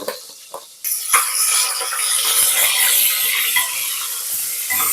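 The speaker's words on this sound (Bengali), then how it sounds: "এবার সেই আলুগুলোকে আমি তেলের মধ্যে দিয়ে ভেজে নেব।" Potatoes lightly salted and dropped into hot mustard oil, a loud sizzle bursting in after a quiet moment and hissing steadily, with small clinks of stirring beneath it.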